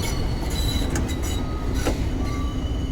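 A video game New York subway Q train on the Brighton Beach line rolls along steadily with a constant rumble, faint rhythmic wheel clicks and brief metallic squeals, and no voices.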